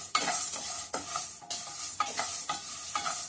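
Urad dal dry roasting in a pan over medium heat for curry leaf spice powder, giving a steady close rustling of grains stirred and scraped, with regular stirring strokes about every half second and no talk.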